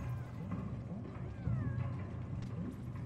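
A cat meows with curving, wavering cries in a video game, backed by a steady low rumble and faint game sounds throughout.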